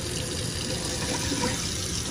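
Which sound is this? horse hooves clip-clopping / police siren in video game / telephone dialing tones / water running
water running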